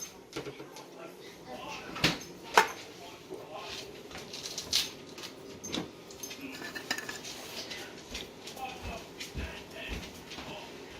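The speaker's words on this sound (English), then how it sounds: "Giving that a mix in and putting that into a bowl to cool completely." Utensils scrape and clink against a bowl as crab cake mixture is stirred and transferred, with several sharp knocks and dish clatter over quiet background noise.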